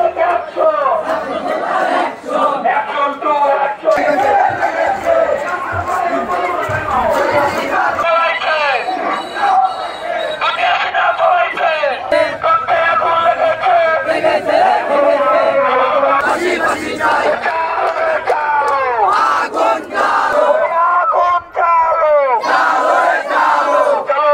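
A protest procession in Jamalpur, Bangladesh, demanding the removal of a union council chairman, with a large crowd loudly chanting slogans in call-and-response bursts led by shouting voices, dense and close throughout.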